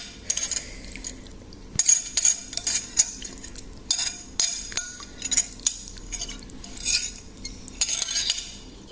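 Cutlery clinking and scraping inside a bowl of chicken noodles as they get stirred and mixed, with irregular bursts of metallic taps and rattles, close and fairly loud, and no talking.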